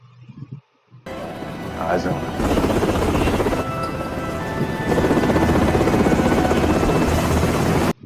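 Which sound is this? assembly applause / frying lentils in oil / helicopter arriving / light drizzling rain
helicopter arriving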